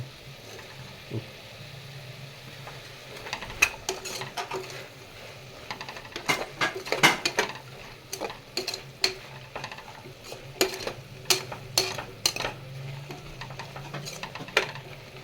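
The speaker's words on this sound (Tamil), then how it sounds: "நல்லா கிளறி விட்டுக்குங்க" A spoon stirs tomato rice in a pot, making irregular scraping clicks and soft knocks against the pot that come close by, grow denser in the middle and continue in scattered bursts.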